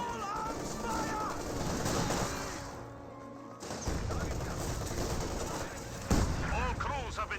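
Small arms fire in Company of Heroes 2 battle, bursts of rifle and machine-gun shots with distant explosions under a dense layer of game noise, with a sharp louder crack near the end and a voice talking over it.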